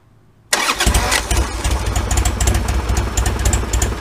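A Harley-Davidson XR1200 motorcycle, started with a key turn and no choke while cold, cranks and fires after a near-silent moment, then settles into a loud, close, lumpy idle with no speech.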